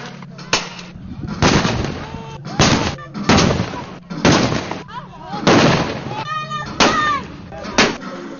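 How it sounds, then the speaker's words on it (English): Soldiers fire a rapid series of loud gunshots and bursts close by, repeating irregularly throughout, with voices talking between the shots. "I don't see action, and they start shooting."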